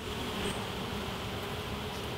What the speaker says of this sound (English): Don't want to squish any of the bees.